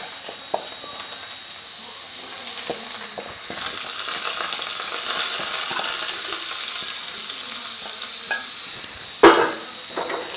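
Chopped cucumber for a Kerala-style thoran with curry leaves and green chilli is stirred in a frying pan, a soft steady sizzle swelling in the middle, with occasional utensil knocks and a sharp clatter near the end.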